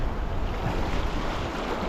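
Steady broadband roar of sea waves breaking on a shore with gusting wind buffeting the microphone, continuous and fairly loud in wet, rough weather while fishing for seabass.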